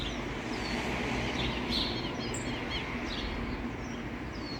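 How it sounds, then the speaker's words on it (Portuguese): Birds chirp faintly in a quiet neighborhood in Argentina, a few short scattered calls over a steady low background hum. "Só se escuta som de passarinho"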